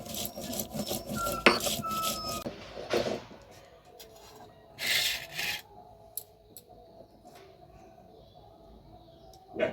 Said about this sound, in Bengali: এবার আমি পেঁয়াজ বেটে নেব।